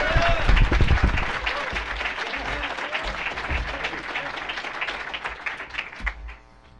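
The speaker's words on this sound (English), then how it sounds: "let's give a big round of applause for Patrick Collison." An audience at a Startup Grind event in Silicon Valley gives a sustained round of applause for a guest speaker, loud and dense at first, then thinning and fading out.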